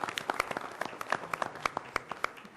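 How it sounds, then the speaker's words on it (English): A round of applause at a university board meeting: a small group claps in scattered, uneven claps that go on for a couple of seconds at moderate loudness, with no talking. "So let me just give you a big round of applause."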